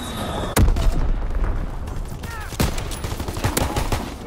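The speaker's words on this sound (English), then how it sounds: "Dropping Azon bomb." Bomb blasts and scattered gunfire in a World War II shooter video game, with a sharp boom near the start and a few more heavy impacts and cracks through a busy battle din.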